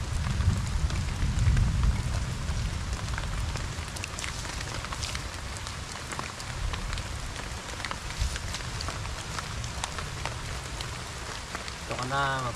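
Steady rain falls outdoors at a jungle camp, a dense, even hiss with a heavier low rumble in the first couple of seconds and a short tonal sound near the end.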